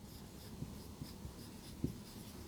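A teacher writing a chemical formula during a chemistry class, steady scratchy strokes of writing on a board with a few sharper taps, close and continuous without speech.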